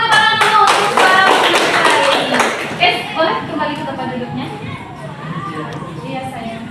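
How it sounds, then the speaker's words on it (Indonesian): A classroom of students applauds the participants of a lesson, with dense, close clapping at the start that thins out as voices talk over it and the room settles. "silakan kita beri tepuk tangan dulu untuk para peserta ini"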